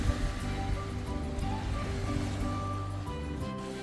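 Sea waves of an incoming tide on the Isle of Skye, Scotland, wash steadily and fairly loudly against the shore, with a continuous broadband rush and no talk.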